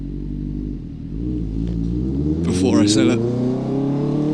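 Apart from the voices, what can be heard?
Honda CB600F Hornet motorcycle riding in London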